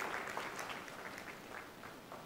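An Easter Sunday church congregation cheers and applauds as a steady, dense wash of clapping and voices, loud and continuous for the whole moment.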